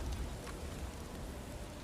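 A rainstorm in the video game God of War Ragnarök, a steady, fairly faint wash of falling rain with a low rumble beneath and no voices.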